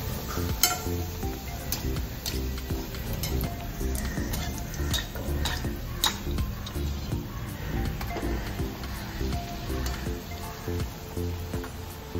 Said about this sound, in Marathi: अशा प्रकारे आपण ह्या पुऱ्या तळून घेणार आहोत।